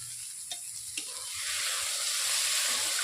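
Potatoes and okra (bhindi) frying in a pan in a village kitchen, a steady broadband sizzle that swells louder after the first second and a half, with a couple of faint clinks from stirring near the start.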